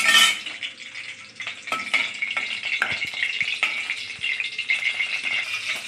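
Eggplant pieces frying in oil in a covered pan for masala baigan, a steady close hiss of sizzling with scattered pops and light clinks of a utensil against the pan.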